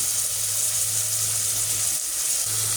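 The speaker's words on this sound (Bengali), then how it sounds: "একটু ভেজে নেই।" Chicken meat fries with onions in a pan, giving a steady, close hiss of sizzling oil with a low hum underneath and no talk.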